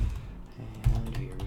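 A few close keystrokes on a computer keyboard entering numbers into a spreadsheet, brief soft taps with a slightly louder thud near the end, heard alone.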